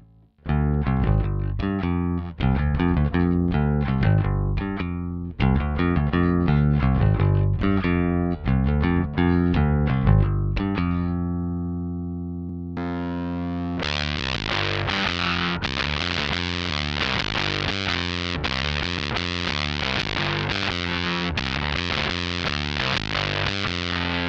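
Clean-toned bass guitar run through a Blammo Electronics Tomb Sender effects pedal, playing a steady melodic line of plucked notes alone, with a short sustained note before a denser, brighter passage.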